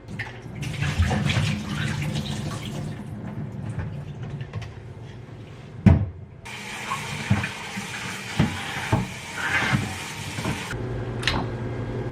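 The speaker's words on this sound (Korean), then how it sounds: "이거 물에 헹궈주고" Water runs at a kitchen sink while vegetables soaked in vinegar water are rinsed: a steady tap flow with splashing and occasional knocks and clunks, close and moderately loud, with no talking.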